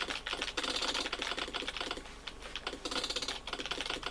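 Rapid, steady clatter of keys on a ZX Spectrum computer keyboard during a fast game of R-Type, continuous and close, with no talk.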